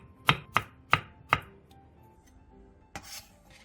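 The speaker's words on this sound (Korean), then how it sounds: "통단무지 반 개를 6cm 정도 길이로 자른 뒤 먹기 좋은 크기로 채 썰어주세요." A knife chops steadily on a cutting board, julienning pickled radish with four crisp, evenly spaced cuts, followed by a pause and a lighter scraping clatter.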